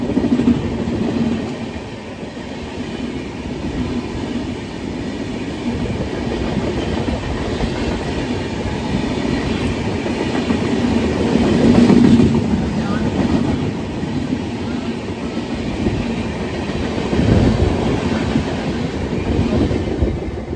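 Vikramshila Express train running on the rails while overtaking, a steady rumble with rhythmic wheel clatter heard close from on board another moving train, loud and continuous with a brief squeal partway through.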